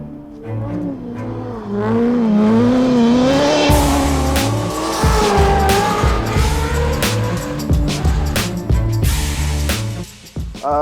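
Ferrari V8-swapped Subaru STI rally car, loud and close, engine revving up and down through rising pitch sweeps while the tires squeal and skid, with sharp bursts and pops.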